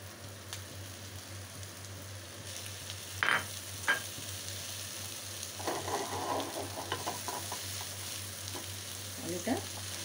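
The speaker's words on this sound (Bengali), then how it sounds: "আলুটা মাছের সাথে ভালো করে ভেজে নেব, মিশিয়ে নেব" Grated potato frying with fish in a pan for a Bengali potol dorma filling, a steady close sizzle broken by a few scraping stirs and light clinks, with no voices.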